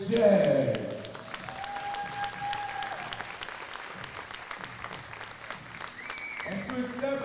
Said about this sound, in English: please give a round of applause to this year's Jackson College Jazz